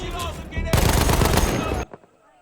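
MG 08/15 machine gun fire in the Battlefield 1 video game, a loud dense burst of rapid shots lasting about a second before cutting off abruptly, with talk faintly present early on.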